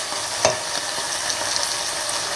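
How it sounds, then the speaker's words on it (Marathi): Salted pork sautés on a high flame in a pan with softened onions and tomatoes for a Goan pork curry, giving a close, steady, dense sizzle with a brief stirring scrape. "हाय फ्लेमीचेर न्हू हे बरें सॉटे करूया आता आमी."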